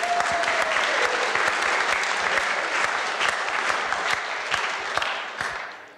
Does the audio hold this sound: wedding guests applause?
yes